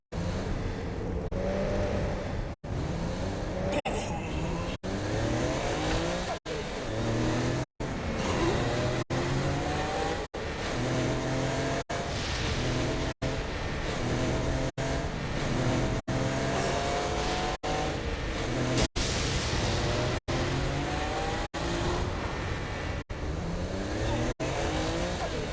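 A car driving in Saints Row on Xbox 360, a steady engine drone with repeated rising revs as gears shift and occasional tire squeal, continuous and fairly close, with brief cut gaps and some talking.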